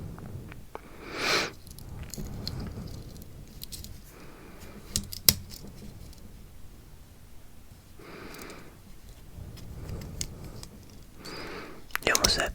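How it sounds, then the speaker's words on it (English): The scissors of a compact multi-tool are worked open with small metallic clicks and scrapes, scattered across the stretch and sharpest near the middle and end, under soft whispering. "How do you get the scissors open in this thing?"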